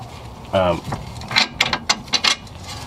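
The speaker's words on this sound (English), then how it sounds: "remove these bolts that are located right here inside the strut" A ratchet removes bolts from the strut of a 2005-2010 Scion tC during a wheel bearing job, giving a short burst of rapid clicks followed by several separate metallic clacks and knocks, close up.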